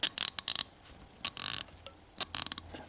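An SK LP90 1/4-inch ratchet clicking close up in quick bursts of fine, rapid ratcheting clicks separated by short pauses.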